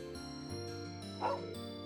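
A dog in the game Trails of Cold Steel II gives a short bark over a backdrop of steady game music, faint and brief.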